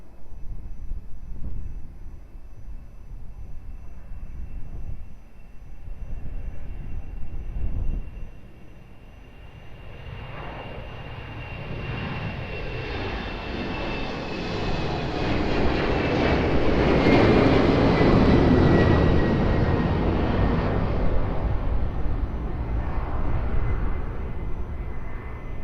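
An airliner takes off from Lisbon Airport, its jet engine roar building steadily over about twenty-five seconds with a high whine, swelling loud and near as it passes, with no talk.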